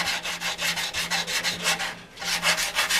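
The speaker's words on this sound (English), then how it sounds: "I'm going to block sand this in." A sanding block rubs back and forth over body filler on a Yamaha FZR motorcycle part during restoration, loud close rhythmic strokes about five per second with a brief pause midway.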